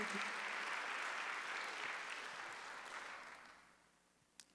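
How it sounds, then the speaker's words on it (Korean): A church congregation claps together in a broad wash of applause that is loud at first and gradually fades away, ending with one last isolated clap. "박수 한번 드리세요"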